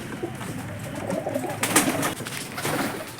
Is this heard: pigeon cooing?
yes